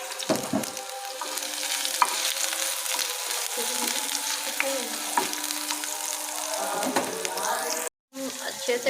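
Garlic-ginger paste hits two spoons of hot oil on a tawa for a chicken dish, giving a close, steady sizzle broken by scraping stirs and a brief cut near the end.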